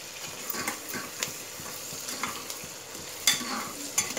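Onions frying in oil for biryani while being stirred, a soft steady sizzle broken by regular scraping and clicking strokes of the spoon against the pan.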